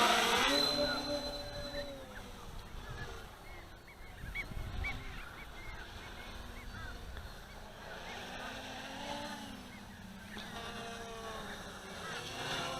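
A Q450 quadcopter running APM 2.5 with Arducopter 3.01 hovers on its maiden flight, motors giving a continuous buzzing whine that wavers in pitch as it drifts, heard at a moderate distance outdoors.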